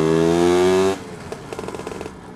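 A Lambretta scooter engine holds a loud, steady high rev for about a second, then cuts off and gives way to a quieter, irregular rattling clatter.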